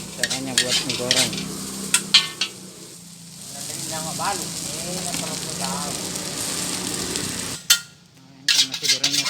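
Mie goreng noodles sizzle loudly in a hot wok at an Indonesian street food stall as a metal spatula scrapes and clangs in quick bursts, with faint voices around.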